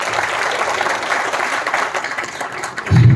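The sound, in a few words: audience applause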